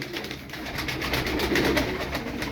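Tumbler pigeons kept for sale coo and flutter in a loft, a soft steady murmur of birds close by with no speech.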